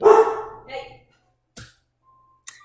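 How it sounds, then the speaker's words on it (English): A pet dog gives a short bark and a yip close by in a home, followed by a couple of brief faint sounds, with a person's quick spoken word at the start. "That's my dog. You'll probably hear him from time to time."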